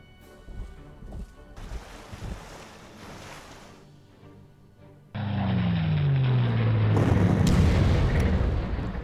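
Tank assault on a city in the Panzer Corps strategy game: low rumbling booms and surf-like noise surge loudly midway and sustain to the end, following quieter background game audio.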